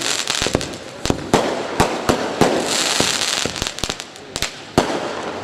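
Firecrackers at a political rally crack off in a rapid, irregular string of sharp, loud bangs, some doubled or clustered, over a roaring crowd-like wash that fills the gaps.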